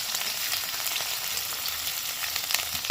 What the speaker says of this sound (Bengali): যে পেঁয়াজ কুচিগুলো রেখেছিলাম অর্ধেক সেই পেঁয়াজটাকে দিয়ে দেবো ভাজার জন্য